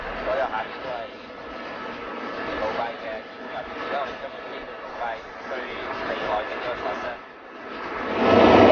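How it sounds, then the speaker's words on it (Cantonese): A helicopter flies over Dubai near the Burj Khalifa, its engine and rotor making a steady cabin roar throughout, rising louder at the end. "依家我將會帶大家咧係親自用直升機啦，飛到上去呢一個嘅杜拜塔上邊咧"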